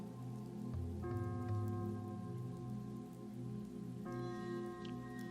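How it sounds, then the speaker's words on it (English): Steady rain falls in an alley, a soft continuous patter under faint tonal background music, even and unbroken throughout. "the only sound in the alley was the sound of the rain."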